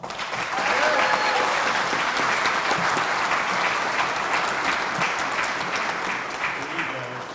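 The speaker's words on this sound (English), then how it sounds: "how about a round of applause for our guest of honor, Len Kaplan." An outdoor crowd at a foot bridge dedication gives a sustained round of applause for the guest of honor, dense steady clapping that swells quickly and holds for several seconds before slowly tapering.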